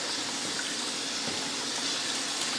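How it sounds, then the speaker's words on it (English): Water pours steadily into a bucket, a constant close splashing rush with no breaks, fairly quiet, no voices. "fill up your bucket"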